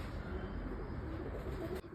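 A hungry pigeon that has come down on its own coos softly outdoors, its low calls running steadily under faint background noise.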